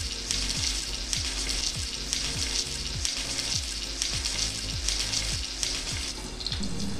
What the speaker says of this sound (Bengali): একটু সামান্য নুন দিয়ে আলুগুলো ভাজবো